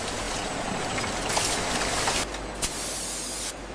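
Coca-Cola pours into bottles on a high-speed factory filling line, a steady close spray-like hiss of liquid rushing in, with brief breaks and a sharp change near the end as the fill cuts off.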